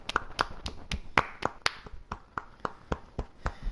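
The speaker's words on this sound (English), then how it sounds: "Oh, he's clapping." A single person claps hands sharply in a steady, fairly quick rhythm, about a dozen crisp claps close by with little else around them.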